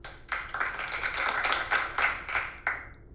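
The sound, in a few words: clapping crowd sound effect in iMovie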